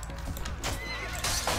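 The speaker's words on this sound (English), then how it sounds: "stop beating up my Dothraki horse that I recently just picked up" A Dothraki horse in the A Clash of Kings mod for Mount & Blade Warband neighs and whinnies with clip-clopping hooves over a steady, dense game soundscape, without any talk.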